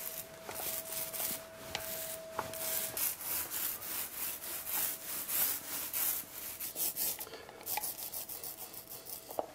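Dried plaster filler on a wall being sanded by hand before painting, a steady run of rhythmic abrasive rubbing strokes, fairly quiet and close, with a few faint tonal pings in the background.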